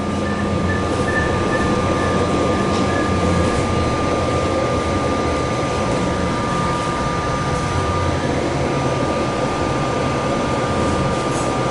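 A San Jose light rail train rolls steadily for the whole stretch, with a constant low rumble and wheel noise plus a thin steady tone, loud and close as if heard from on board.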